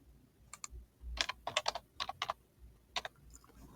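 Quiet, close typing on a computer keyboard, a few short bursts of keystrokes with small gaps over faint room background, no speech.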